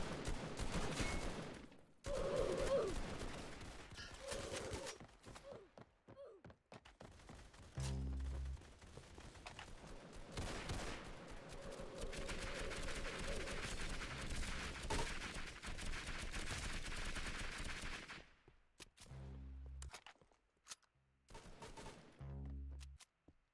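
Sustained bursts of rapid gunfire in the Roblox video game Combat2, dense and continuous with brief pauses and a few deep thuds near the end, loud with no talking over it.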